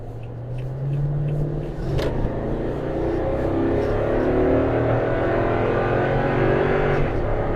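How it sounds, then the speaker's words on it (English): A 2022 Toyota Tundra pickup accelerating on a highway toward 70 mph, its engine note climbing steadily in pitch through gear changes over road and wind noise, with no voices. "I'm gonna give it a go as far as see what kind of acceleration we have"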